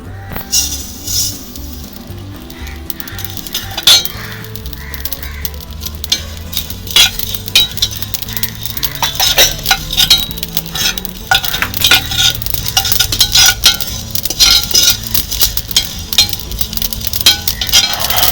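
100 grams of cumin seeds are dry-roasted in a pan for homemade chili powder, a spatula scraping and stirring continuously with metallic clinks, the rattling strokes growing busier and louder over time.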